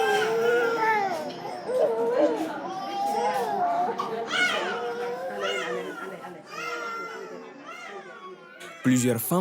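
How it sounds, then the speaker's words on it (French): A newborn baby cries in repeated wavering wails with short breaths between them, close and clear for several seconds, ending in a louder burst. "Plusieurs femmes n'ont pas le privilège d'entendre ces pleurs de nouveau-né."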